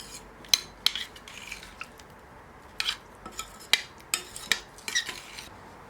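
A spoon stirring vegetable curry in a pressure cooker pot, a series of sharp metallic clinks and scrapes at irregular intervals, fairly close and moderately quiet with no talking.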